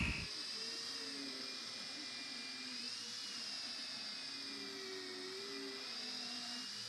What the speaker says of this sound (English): we're just going to put some moderate pressure down on our rotary